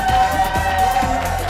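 A studio audience at a Monday talk show keeps up a loud, steady roar of cheering, with a few hand claps poking through the sustained crowd noise.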